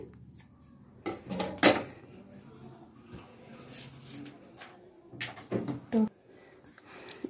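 Scissors cut through folded cloth for a half-collar neck uniform dress in short snipping bursts, with a dog whimpering and yipping in the background and a voice talking.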